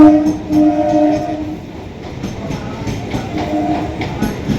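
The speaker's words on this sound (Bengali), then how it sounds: "গাইস অলরেডি ট্রেন ঢুকে গেছে" A train pulls into Kakdwip station, its horn sounding in long repeated blasts over the rumble and clatter of rolling wagons, loud and close.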